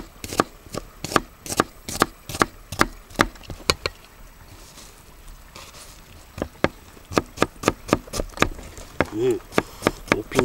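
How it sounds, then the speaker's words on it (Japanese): An Opinel knife finely minces vegetables on a board at a camp, giving rapid, crisp chopping taps in quick bursts, with a short pause before the chopping resumes. The sound is close and clear. "でこっちをみじん切りにしていきます"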